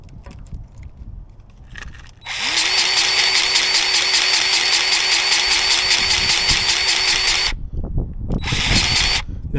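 A Bauer 20V cordless grease gun pumps with a loud, steady pulsing motor whine for about five seconds, cuts out briefly, then starts up again near the end.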